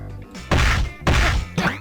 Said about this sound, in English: Must you stamp about like that?